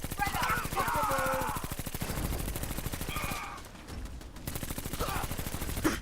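Continuous rapid automatic gunfire in Fallout 4, a dense rattling stream of shots that briefly breaks off midway, with voices and game sounds layered over it.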